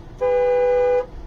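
A new car horn gives one steady, loud honk lasting almost a second, close by and alone, with no talking over it.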